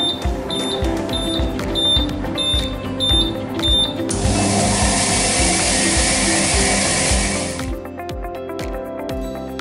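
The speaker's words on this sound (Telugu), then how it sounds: "చెప్పిన ప్రక్రియ 2 బీప్ శబ్దాలతో ఇలా మొదలవుతుంది" A disc polishing machine gives a quick series of sharp, high electronic beeps, then starts up with a loud, steady whirring roar that runs for several seconds before cutting off.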